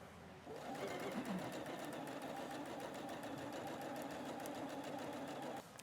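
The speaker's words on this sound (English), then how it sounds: "we're going to want to do a top stitch about 1/8 of an inch from the edge" A sewing machine top stitches a quilted trucker hat in one continuous, even run of close mechanical whirring and rapid needle pulses, starting and stopping cleanly, with no talking.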